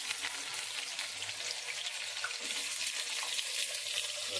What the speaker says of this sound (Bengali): পেঁপে আর আলুগুলো এক এক করে ছেড়ে দেবো তেলের মধ্যে।